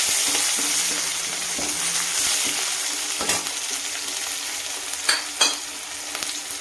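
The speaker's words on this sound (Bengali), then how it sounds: "এইবার এই পেঁয়াজটাও দিয়ে দিলাম" Chopped onion frying with five-spice in hot oil gives a steady close sizzle and crackle, broken by a few sharp clinks and scrapes from stirring near the end.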